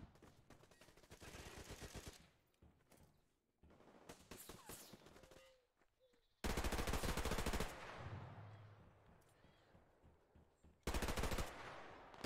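Bursts of MP5 submachine gun fire in the Survarium PvP shooter, loud rapid automatic volleys in several separate strings with short pauses and quieter gunfire between them, no talking.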